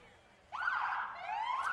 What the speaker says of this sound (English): let's hear those sirens